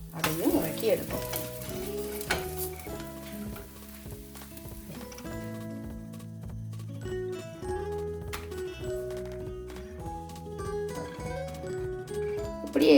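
Weight-loss dosa batter sizzles and crackles steadily on a hot pan, a continuous frying hiss with light scraping and tapping under background music.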